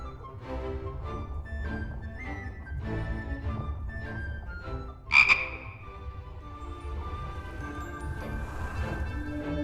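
A frog croaks in steady, repeated low pulses throughout, with a sudden bright crash-like burst in the middle; no one speaks.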